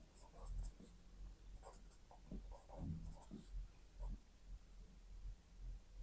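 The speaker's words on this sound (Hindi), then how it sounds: "तो इधर मैं लिख दूंगा व्हाट टाइम" Faint scratching of a pen writing out math work during a class lesson, with soft irregular strokes heard at low level throughout.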